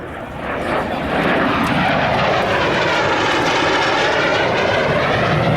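A vintage jet warbird makes a photo pass at a 1997 military air show at Quonset ANGB, its engine roar swelling quickly, then holding as a loud, broad, sustained rush close overhead.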